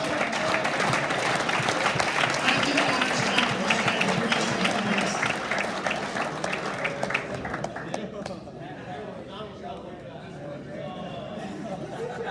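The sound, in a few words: audience applause for a comedian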